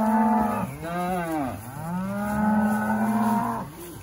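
Cattle moo loudly and continuously at a farm on weaning day, with long, drawn-out, overlapping bellows from cows close by.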